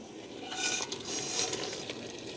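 Sausages being stirred into a ragu sauce in a large pan, with soft scraping and a few light clinks of utensil on metal over a faint sizzle, quiet and close.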